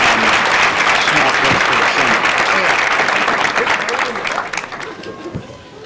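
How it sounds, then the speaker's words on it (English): Sustained audience applause at a crossword puzzle tournament finals honors the puzzle constructors. A dense, steady clatter of many hands fills the room and then thins slightly toward the end. "How about a round of applause for our constructors this weekend also?"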